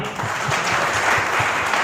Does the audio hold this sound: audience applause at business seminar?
yes